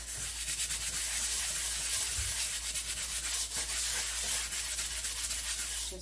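Rough, rhythmic scrubbing on the burnt bottom of a pan, cleaned without chemicals, a loud close abrasive rubbing with quick back-and-forth strokes throughout.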